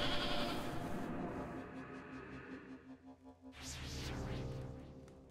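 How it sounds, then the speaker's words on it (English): A goat in the video game Little Goody Two Shoes bleats in a drawn-out wavering call near the end, after a quieter stretch of game sound, with no talk. "A goat?"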